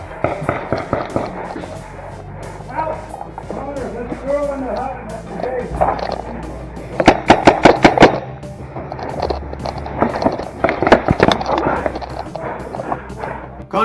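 Paintball guns firing during a Warzone paintball game, rapid bursts of sharp pops in quick succession mixed with shouting players, louder near the middle and end.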